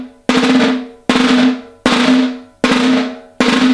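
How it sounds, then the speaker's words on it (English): Slightly tighter buzz rolls on a samba caixa snare drum, five evenly spaced crisp sizzling presses that fade between strokes, close and loud with no voices. "And you'll just tighten up that buzz roll a little bit more."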